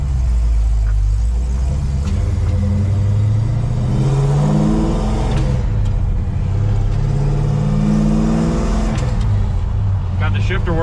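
1968 Oldsmobile Cutlass with no hood on a road test, its engine climbing repeatedly in pitch through successive gear shifts, loud and close, with rising and falling sweeps over roughly eleven seconds.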